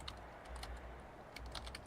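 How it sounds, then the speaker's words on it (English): Quick, light keystrokes on a computer keyboard come in two small clusters with a short pause between them, quiet and close, with no talking. "God, my typing"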